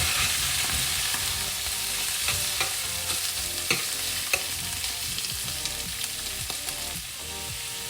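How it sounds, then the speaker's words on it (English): Prawns fry together with garlic, chopped chilli and parsley in a pan, giving a steady, soft sizzle with scattered small pops and stirring clicks, close and without talk. "We're now just going to fry that all together."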